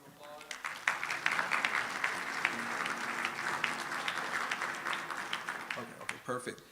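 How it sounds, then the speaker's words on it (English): Sustained audience applause fills a hall at an MLK breakfast event, dense steady clapping from many hands with a few louder claps near the start, tapering slightly at the end. "Let's give them another round of applause."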